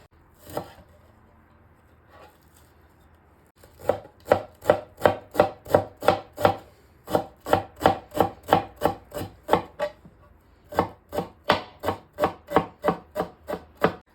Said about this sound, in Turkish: biz de hemen şöyle yarım demet kadar dereotunu ince ince kıyıyoruz